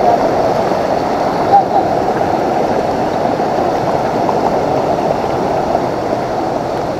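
River water flowing and rushing steadily, a continuous broadband wash heard close and fairly loud throughout, with no clear talk over it.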